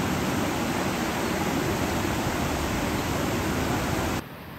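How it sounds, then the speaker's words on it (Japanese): A multi-tiered waterfall in Costa Rica's rainforest roars as a constant, full hiss of falling water, loud and unbroken until it drops off abruptly just before the end. "この何重の滝とかも含めてネイチャー感がすごいよね。"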